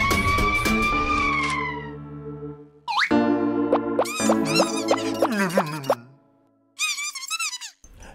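A cartoon ambulance siren in a Pocoyo children's animated story: bright, bouncy wailing tones that sweep up and down, with springy boing-like effects and brief pauses between the phrases.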